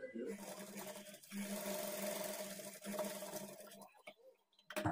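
A sewing machine hums along a blouse shoulder seam at a half-inch margin, running in sustained stretches with brief pauses, fairly faint, with a voice speaking over it.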